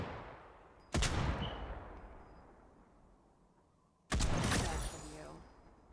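Gunfire in the battle royale game Final Fantasy First Soldier, two sharp, loud bursts about three seconds apart, each cracking close by and then trailing off in a long, fading echo.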